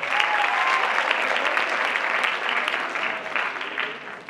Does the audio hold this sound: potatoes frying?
no